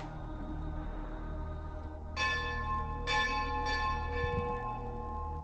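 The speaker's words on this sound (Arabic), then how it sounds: "أجراس الكنائس تعانق مآذن المساجد" Church bells ring out in Aleppo, Syria, a few bright clanging strikes rising over a steady low background hum, moderately distant and alone with no voices.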